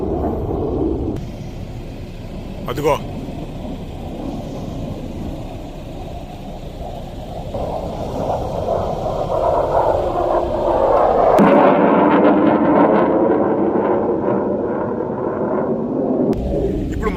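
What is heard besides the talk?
US Air Force Thunderbirds F-16 fighter jets taking off at airshow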